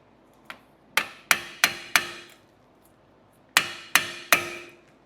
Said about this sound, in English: So just get yourself an impact driver